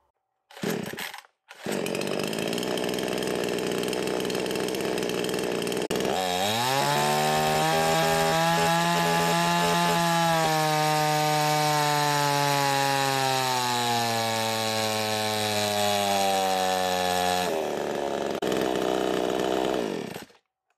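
A chainsaw whose crankcase was found full of shavings runs on a dyno, a loud continuous engine roar that rises and sweeps in pitch through sustained pulls before cutting off, with no talk.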